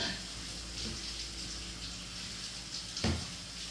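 A big sweet potato rinsed under a running tap, a steady close stream of water with one brief splash near the end, no talking.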